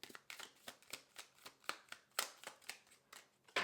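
A deck of tarot cards is shuffled by hand in quick, soft riffling bursts, about a dozen crisp papery flicks in steady rhythm, close and quiet with no talk.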